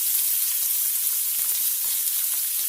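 Onions frying in oil for mutton haleem, a continuous bright sizzle with small crackles and occasional stirring, close and steady.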